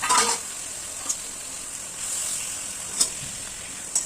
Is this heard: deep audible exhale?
no